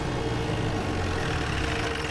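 A jeep's engine idles at night after the vehicle pulls to a stop, a steady low rumble holding constant and fairly close with no voices over it.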